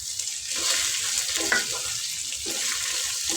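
Taro root chunks sautéing in oil with chili powder, a steady close sizzle with stirring scrapes throughout, no voices.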